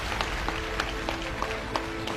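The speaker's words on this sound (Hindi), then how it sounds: "दिल खोल के ताली बजाइएगा" An indoor audience at a Modicare business gathering claps steadily, a dense patter of hands with a few sharper individual claps standing out, moderately loud and continuous with no talk over it.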